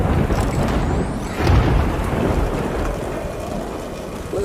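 Steady downpour with rolling thunder in the video game Death Stranding, a broad constant hiss of rain punctuated by a deep rumble swelling midway, with no talk.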